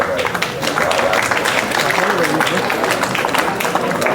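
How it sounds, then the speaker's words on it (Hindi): An audience claps to welcome a guest on stage at a school ceremony honoring top students, with steady applause lasting several seconds while someone talks over it. "जोरदार तालियों से स्वागत।"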